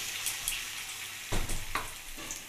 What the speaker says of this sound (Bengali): এখন পেঁয়াজটা একটু লাল লাল করে ভেজে নেব